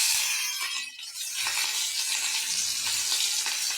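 Chopped onion hits hot oil in a pan already holding cloves and cardamom, giving a steady close sizzle and crackle with light stirring clinks, no talking.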